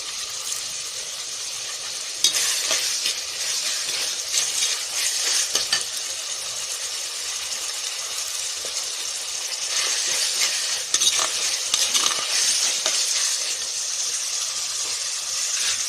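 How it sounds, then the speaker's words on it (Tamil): Tomatoes sautéing in a pan for a Tamil ragi kara kuzhambu with sundakkai, a steady soft sizzle and hiss with occasional scraping stirs of a spoon, continuous and close. "இப்போ தக்காளி வதங்கிட்டு இருக்கு"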